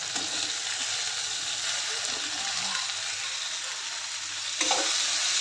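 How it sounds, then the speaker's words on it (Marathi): Crushed garlic frying in a pan with onion, tomato and turmeric, a steady close hiss of hot oil with a few soft stirring scrapes and a brief louder flare near the end. "त्यानंतर कुटून घेतलेलं लसूण घालते."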